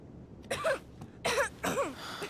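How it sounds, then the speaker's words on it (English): Three harsh, raspy coughs in a row from a character in the video game Life Is Strange 2, close by, each a short rough burst over a low background hum. "that cough doesn't sound too good"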